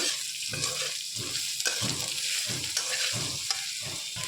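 Vegetables frying with sugar and salt in a pan for semolina upma, stirred with a utensil in steady scraping strokes over a constant close sizzle.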